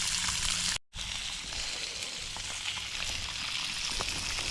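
Mushrooms and onions hit a hot cooking surface at an outdoor campsite, a loud continuous sizzle with crackles, broken by a brief cut near the start, no talking.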